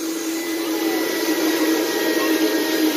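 A real electric vacuum cleaner runs continuously indoors while a home is being cleaned, a steady, close whine and whoosh with no pauses.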